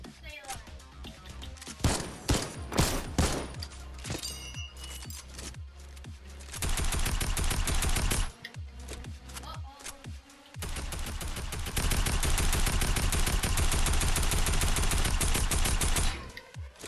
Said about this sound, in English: Just keep shooting, keep shooting.